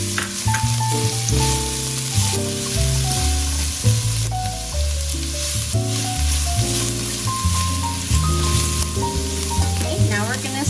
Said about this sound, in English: Now it's time to put in our garlic.